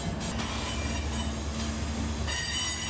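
A freight train of about 100 cars rolls past on a railway near New Orleans, a loud, continuous rumble and rattle of wagons with metallic squeal, close up and unbroken, with no talk.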